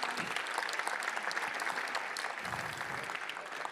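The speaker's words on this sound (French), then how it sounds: "On peut l'applaudir" Audience applause at a 2023 sports awards ceremony in Mayenne, continuous crowd clapping at moderate level with a few low bumps and a faint voice or two beneath.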